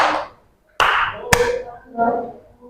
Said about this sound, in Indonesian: Pak Guru tepuk tangan 2